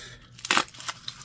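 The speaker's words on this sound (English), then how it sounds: "Not a knife. These are scissors." Scissors snip at an album package in one sharp, close cut, with a few smaller crackling clicks around it.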